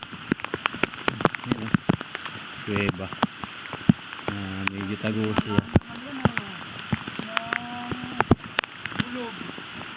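Steady rain patters and drips on surfaces nearby in a forest, with sharp drop impacts throughout, while a person talks quietly over it.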